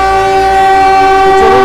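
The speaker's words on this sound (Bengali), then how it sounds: "ট্রেন হুইসেল দিচ্ছে।" Darjeeling toy train at Rangtong station sounds its whistle, a loud, steady sustained tone held throughout, close by with faint rail rumble beneath.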